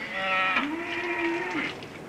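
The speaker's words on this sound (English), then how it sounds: "cattle are getting restless." A single long cow moo rises and holds steady for about two seconds, loud and close, with no voices over it; restless cattle in a 1966 island-set film.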